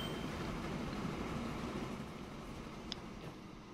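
A train passes through in the railway building game Train Fever, a steady low rumble of rolling wagons that fades slightly over a few seconds, with a brief faint click near the end.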